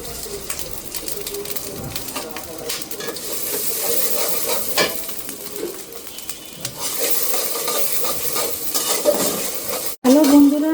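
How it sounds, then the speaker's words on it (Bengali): Chopped onions sizzle steadily in hot oil while a spoon stirs and scrapes the pan, with occasional clinks and a faint bird call in the background, for a rui fish dish. "এখন আমি এর ভিতরে পেঁয়াজ দিয়ে দেব। পেঁয়াজ কুচি করে রেখেছিলাম,"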